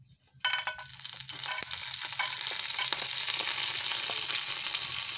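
Mustard seeds, chana dal and curry leaves fry in hot oil, a bright steady sizzle that bursts in loudly and holds dense and close, with faint popping and crackle throughout and no talking.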